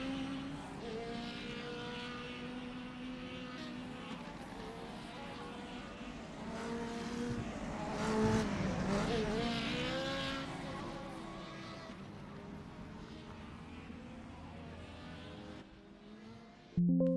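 Racing cars in a 1985 CART racing game at Cleveland, engines droning and whining as revs sweep up and down, with tyre squeal swelling mid-way during a spin, loud and close throughout.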